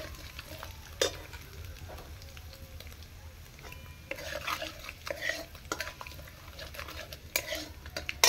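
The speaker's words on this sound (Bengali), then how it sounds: "আর দিলাম গোটা জিরা। একটু লাল লাল ভেজে নিল।" Whole cumin seeds sizzle softly in hot oil in a pan, with fennel seeds added, while a utensil scrapes and clinks against the metal in irregular stirring strokes.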